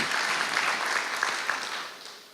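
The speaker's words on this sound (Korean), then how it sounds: "박수 한번 보내주시겠어요?" An audience at a church worship service applauds in a steady, dense wash of clapping that holds for over two seconds and thins out at the end.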